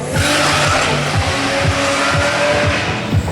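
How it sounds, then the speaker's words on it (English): Toyota 2JZ engines rev out near a 1985 Toyota Supra with a 2JZ-GTE swap, a loud, close, raspy engine roar with rhythmic pulsing and squealing, continuous and without talk. "I hear 2JZs revving out."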